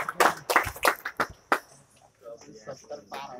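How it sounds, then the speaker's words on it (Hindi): Short burst of scattered hand claps in a classroom, a few sharp claps close together at the start, then fading into murmuring voices. "तालियां बजाइए।"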